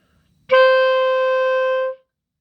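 A clarinet sounds a single sustained high D, fingered with the thumb on the register key, held steady for about a second and a half before cutting off cleanly, close and alone.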